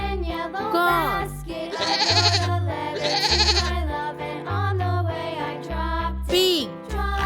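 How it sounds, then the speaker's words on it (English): A goat bleats in a children's farm-animal lesson, a few short wavering bleats repeated over a looping musical background with a bouncy bass line and bright tinkling accents. "goat"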